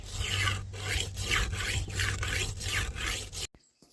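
Knife blade stroked repeatedly across a wet whetstone, a steady run of about seven rhythmic rasping passes, close and fairly loud, stopping abruptly near the end.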